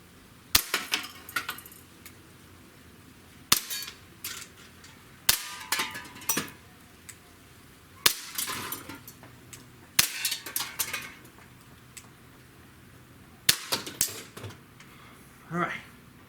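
A Colt Defender compact 1911 pistol fires at targets in spaced single shots and quick pairs, sharp and close, each crack followed by short clattering rings, with quiet gaps between.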